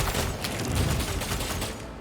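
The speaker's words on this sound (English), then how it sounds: "Let's just shoot through these guys" Rapid gunfire from a turn-based combat shootout in the video game Warhammer 40,000: Rogue Trader, a dense continuous volley of shots with no speech over it.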